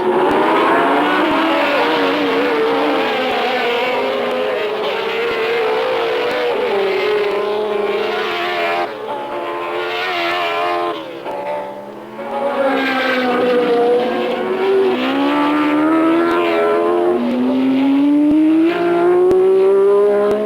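Race cars speeding around a track during a racing compilation, their engines roaring loudly and continuously with rising and falling pitch as they accelerate and pass, with no talk over them.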